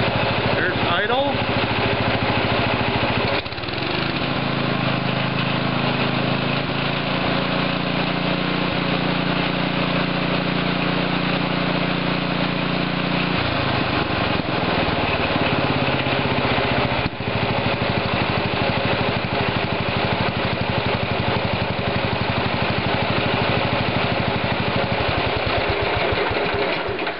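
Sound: small engine idling after carburetor tuning

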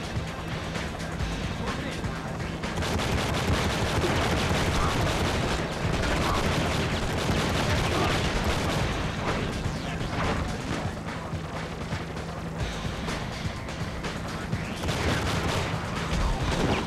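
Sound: pistol gunfire in video game Enter the Matrix

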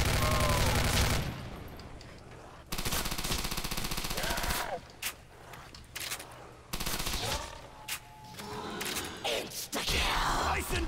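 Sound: Tommy gun firing in Call of Duty: World at War, video game

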